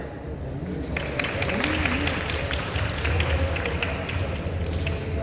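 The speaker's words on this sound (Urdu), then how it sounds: "بجا رہے تالیاں" Audience applause at a women's awards ceremony at Aiwan-e-Iqbal during a shield presentation, a sustained dense clapping wash from a crowd, steady and moderately loud throughout.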